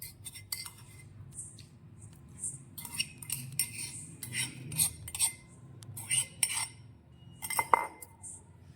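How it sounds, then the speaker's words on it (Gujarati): Crushed ginger being spooned out of a pounding vessel into a bowl in a home kitchen, giving a string of light metallic clinks and scrapes of a spoon against dishes, close and irregular, with no talk. "હવે આપણે તેને પણ વાટકામાં કાઢી લઈએ"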